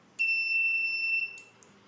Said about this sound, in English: for every command we are giving the voice output and as well as giving the buzzer also.